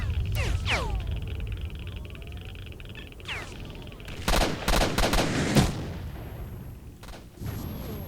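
Gunfire in S.T.A.L.K.E.R. Shadow of Chernobyl: a run of sharp, loud shots bunches together in the middle, with a few scattered reports later. Someone speaks over the quieter stretches.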